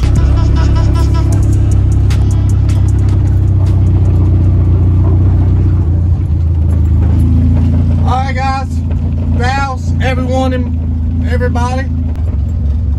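A car with freshly worked suspension idles and rumbles steadily while being driven around a compound, the low engine drone continuous, with someone talking over it in the second half.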